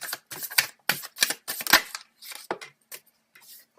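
Tarot cards drawn and laid out during a reading, a quick series of crisp snaps and slides, loud and close, with a few softer flicks trailing off at the end.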